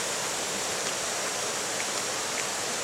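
Steady, loud broadband rush of a waterfall along a hiking path through bamboo, continuous and unbroken with no voices.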